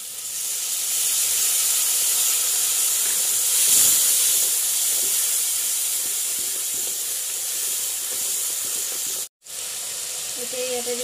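Onions tossed into a hot pan with dried chilies and bay leaves for a meat dish, bursting into a loud, continuous sizzling hiss that holds steady, with a brief cut near the end.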